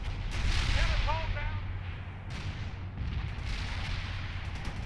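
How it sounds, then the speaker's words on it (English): A missile launch in the World in Conflict video game roars as a deep, sustained rumbling blast with whooshing texture, heavy and continuous throughout amid battlefield noise. "Launch the 85 missile"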